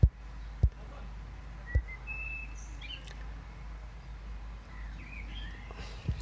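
Birds chirp and whistle faintly outdoors in a pleasant spot, brief scattered calls over a low background hum, with a few sharp knocks or handling bumps.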